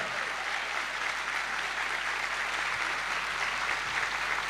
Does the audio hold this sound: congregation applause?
yes